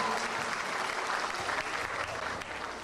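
Steady applause from a crowd at a school graduation fills the whole stretch, dense and even, tapering slightly at the very end.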